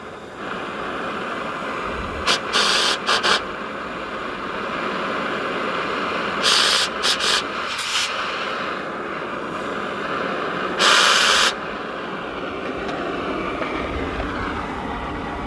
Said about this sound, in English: got the torch out, and I'm just going to cut the axle